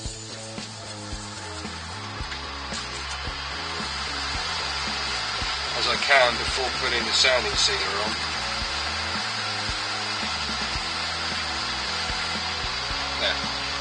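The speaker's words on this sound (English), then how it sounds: "I'm going to run the lathe in both ways" A wood lathe spins a scorched, gilded ash bowl being wiped clean with a steady mechanical whir and hum, close by, while someone talks over it.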